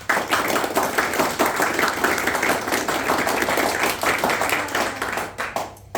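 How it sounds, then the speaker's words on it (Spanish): A church congregation claps steadily for about six seconds, a fast, dense rhythm of many hands that thins out at the end. "Den un aplauso al Señor."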